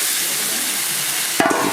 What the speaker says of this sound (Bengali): আলুটা আমি মশলার সাথে ভাজাও হয়ে যাবে এবং ভাঙাও হয়ে যাবে